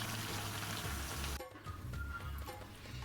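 Eggplant, yardlong beans and tomato sautéing in a pan, a steady close sizzle and crackle that dips briefly midway before the frying hiss resumes.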